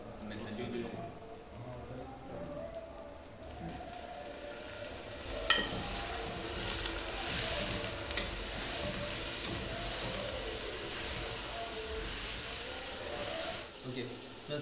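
Oil in a cooking pan sizzles and hisses steadily during an Indian cooking class in Ranakpur, a constant frying crackle with occasional stirring sounds and voices talking underneath.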